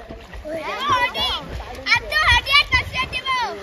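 Water splashes as people swim in a river, with short bursts of splashing mixed among close, excited children's voices.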